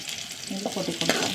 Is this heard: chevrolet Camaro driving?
no